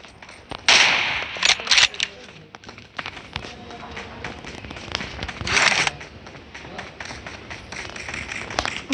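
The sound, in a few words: gunfire from a new gun in a simulation video game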